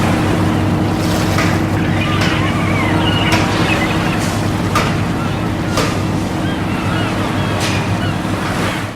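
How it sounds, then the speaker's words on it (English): A steady, droning boat engine hums beneath loud wind and splashing water, with occasional sharp gusts buffeting the microphone. "The whirring engines of the boats as they depart."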